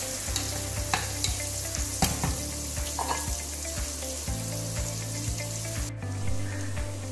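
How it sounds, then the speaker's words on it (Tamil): Sliced onions fry in oil for soya chunks pulao, giving a steady close sizzle broken by repeated scraping stirs of a spoon against the pan, with no one talking. "வதங்கினதும் வெங்காயம் போடுங்க. நான் 3 வெங்காயம் வெட்டி வச்சுருக்கேன். வெங்காயம் நல்லா பொன்னிறமாக வரட்டும்."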